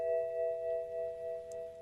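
BMW car check control warning chime, a steady electronic tone held for just under two seconds, clear and alone against a quiet background.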